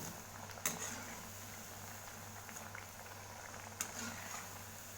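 Moong dal vadas deep fry in hot oil with a faint, steady sizzling and bubbling hiss, a low hum beneath it and a couple of brief sharp clicks.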